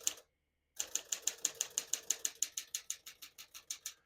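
A 1955 Smith-Corona Silent-Super portable typewriter is typed on after a short silence, giving about sixteen crisp, evenly paced keystrokes close up with no talking.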